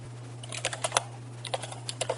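Light, quick keystrokes on a computer keyboard while filling out an online sign-up form, a short irregular run of soft clicks close to the microphone in a quiet room with a faint steady hum.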